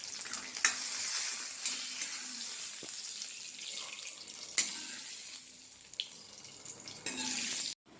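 Hot tempering of curry leaves poured into a pot of sambar curry, a faint sizzle and splash with soft stirring clinks, quiet and close.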